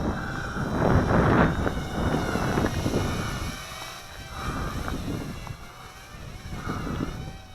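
Gusting wind buffets the microphone outdoors while a small toy drone hovers nearby, a steady broadband rush rising and falling in waves with no speech.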